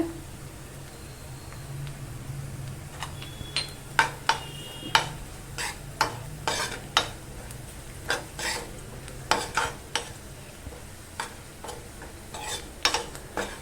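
Softened onion and turmeric are stirred in a pan for tendli sabji, with irregular metallic clicks and scrapes of a spoon against the pan over a faint background hum.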